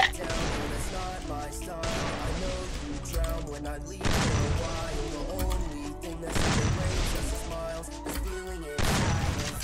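Bursts of gunfire and booming shots from the Free Fire video game erupt in four or five loud waves over a continuous music bed, each volley sharp and dense.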